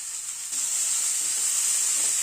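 Two chopped onions fry with vegetables in a pan, giving a bright, steady sizzle that grows a little louder midway and carries on without talk.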